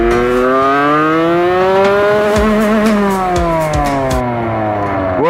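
A 72cc air-cooled motorcycle engine with a badly tuned carburettor, revving loudly and unevenly up and down, its pitch rising and falling with sharp crackles, no talking.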